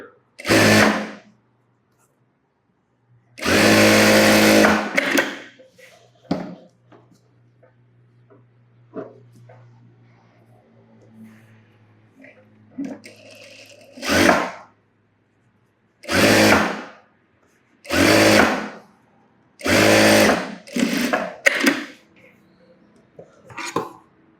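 A sewing machine stitching a blouse runs in several short, loud bursts separated by quiet gaps, close by, with soft handling noises between the runs.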